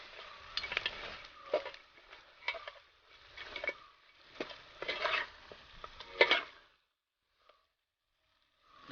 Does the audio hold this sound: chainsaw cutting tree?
no